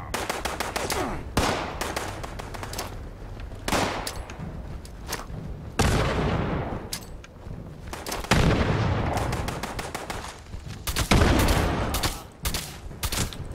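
Automatic weapon fire in the Fallout 76 video game, long loud rattling bursts broken by short gaps, close and intense, with occasional heavier booming shots.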